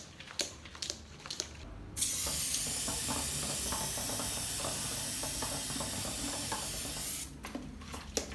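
A glaze sprayer sprays ceramic glaze inside a small homemade spray booth: a steady, close airy hiss that runs for about five seconds, with quiet handling clicks and knocks before and after.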